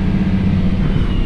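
A Case Puma 225 CVX tractor pulls away across a field, its engine a loud, steady, low rumble that holds without a break and has no voices over it.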